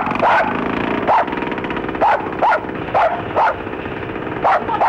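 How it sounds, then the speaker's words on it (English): A dog barks repeatedly, about seven sharp barks at irregular intervals, fairly close, over a rough background murmur. "Can you keep your bloody dog quiet?"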